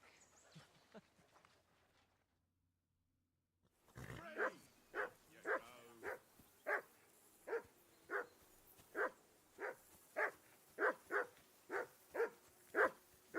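A dog named Mutt in the video game Kingdom Come Deliverance 2 barks in a steady run of evenly spaced, loud barks close by, after a quieter stretch and a short silence.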